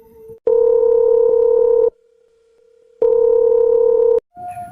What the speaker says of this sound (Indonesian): tiba-tiba istrinya telepon lagi.